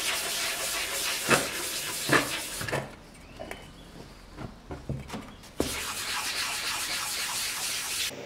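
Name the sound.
sanding with sandpaper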